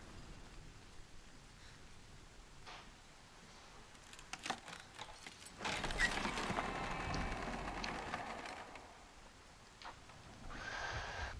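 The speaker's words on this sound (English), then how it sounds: "I think it's all this rain." Soft, steady rain falls in the video game Hellblade: Senua's Sacrifice, a faint even hiss that swells somewhat louder midway before easing again, with no voices.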